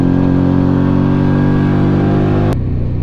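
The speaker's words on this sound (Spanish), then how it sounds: "Pero la moto suena, ¿eh? Suena un cojón." A Keeway V Cruise 125 scooter's engine runs loud and steady with a strong low hum and rich harmonics, holding one pitch for about two and a half seconds before dropping off sharply into a lower idle.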